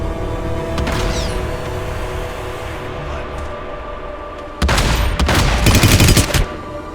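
Close-range shotgun blasts in the video game Hitman Absolution come in a loud cluster of rapid booming shots late on, after a quieter stretch of steady game ambience.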